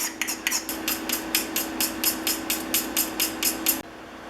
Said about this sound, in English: I'm going to use my homemade scraper to remove the lacquer from the tote and the knob